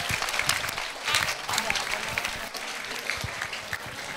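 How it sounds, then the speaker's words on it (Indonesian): Audience of students clapping at a school lecture, a dense burst of applause that swells and tapers over several seconds, with voices mixed in. "beri tepuk tangan dulu"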